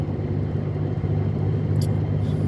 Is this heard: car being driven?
yes